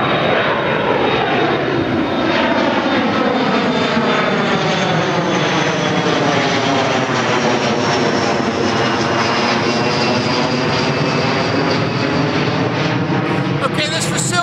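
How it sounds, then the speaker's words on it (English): Airplanes fly overhead near Philadelphia International Airport, a loud continuous engine roar that swells and sweeps in pitch for the whole stretch, heard outdoors close by without talk. "I'm right by the Philadelphia International Airport, so you're going to hear a couple planes flying over."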